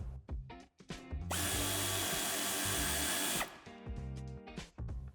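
A power tool runs in one sustained loud burst loosening a nut on the exhaust of a 2020 Audi A5 coupé during a tow-hitch fitting, with shorter mechanical clicks and clatter before and after.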